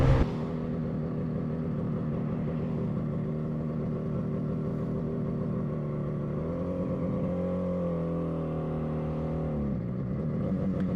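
A 1980 Moto Guzzi 250 TS motorcycle rides through traffic with a steady, loud droning engine, the pitch shifting up and down slightly as the throttle changes, heard continuously from close by.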